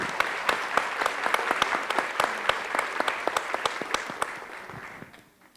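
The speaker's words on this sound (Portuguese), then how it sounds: "a gente podia dar uma salva de palmas em homenagem a todas elas" An audience at a celebration for the twelve-year-old Prazer em Ler reading programme gives a round of applause for its contributors, steady crowd clapping with sharp individual claps that fades out at the end.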